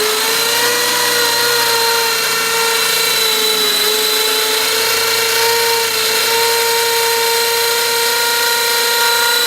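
A power drill runs continuously at close range during a rear shock install on a Nissan Micra K11, its loud, steady high-pitched whine holding almost unchanged throughout.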